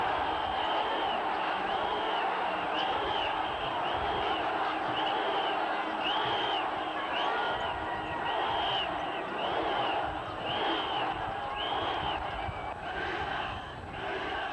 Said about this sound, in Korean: 하늘과 땅의 공간을 한꺼번에 메울 듯한 함성